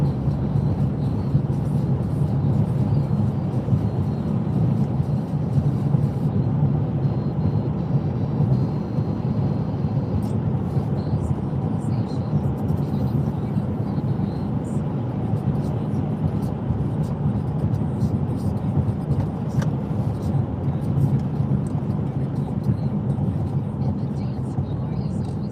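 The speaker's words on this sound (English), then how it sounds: "It's just me driving." A car carries its driver home with a steady, loud low rumble of engine and road noise that runs unbroken throughout.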